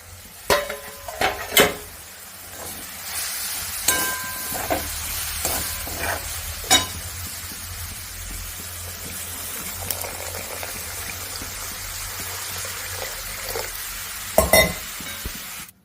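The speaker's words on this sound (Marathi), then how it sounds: "हे दही आता एक मिनिटभर ह्याला परतूया चांगला गोळा होईपर्यंत" Vastuka (chakvat) greens being stir-fried with fresh homemade curd in a pan, a continuous low sizzle broken by sharp spatula clinks and scrapes against the metal, close and clear with no talking.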